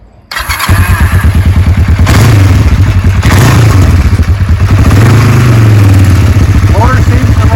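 A 1990 Kawasaki Vulcan EN500A motorcycle engine cranks and catches after a brief quiet moment, then runs loud and steady close by, with a couple of throttle blips under a voice talking.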